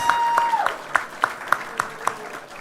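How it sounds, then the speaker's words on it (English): A comedy gong show audience gives a round of applause for a comedian, heard as a run of about nine evenly spaced sharp claps, fairly close and moderately loud, rather than a dense roar. "Round of applause for Sam, ladies and gentlemen."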